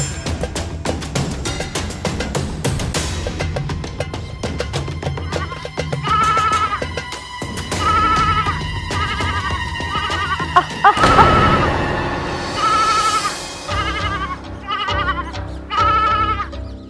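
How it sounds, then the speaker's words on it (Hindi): Grazing sheep bleat in a series of short, wavering calls, repeated every second or two and fairly close, over a steady backdrop of other ambient sound. "भेड़े चरा रही हूँ।"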